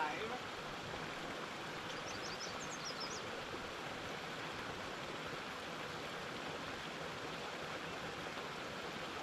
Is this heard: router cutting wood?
no